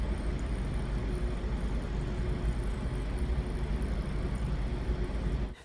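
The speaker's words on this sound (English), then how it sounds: "That's the sound of that bone dry clay absorbing the water." Bone-dry clay soaks up water with a soft, continuous fizzing hiss, close and steady for several seconds before it suddenly stops.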